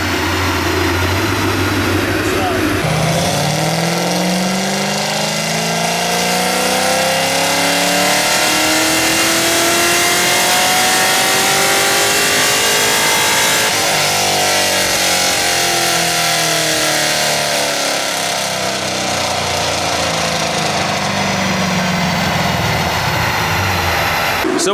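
Corvette V8 with flames from the exhaust revving hard through repeated tuning pulls, loud and close, with rising and falling engine sweeps that climb, drop back and climb again over a constant roar.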